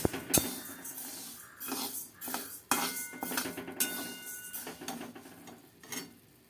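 Moong dal and urad dal dry-roasting together in a pan, with repeated scraping and clinking of a metal spatula against the pan over a low background, the stirring strokes coming in uneven bursts.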